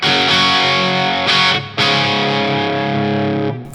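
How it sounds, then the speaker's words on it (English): A Yamaha Revstar RS720BX electric guitar blasts through a high-gain 1987-style Marshall 100-watt stack, thick distorted chords ringing loud and sustained with two brief breaks and sharp re-attacks, no voices. "I'm here like in a 1987 X sort of Marshall 100 watt stack kind of thing."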